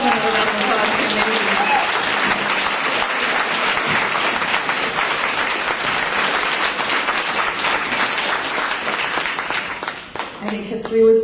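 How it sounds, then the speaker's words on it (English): A university event audience gives sustained, loud applause, a thick continuous roar of clapping that thins near the end as a voice briefly returns. "Let's give another round of applause"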